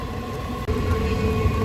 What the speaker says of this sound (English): There's another train in the background,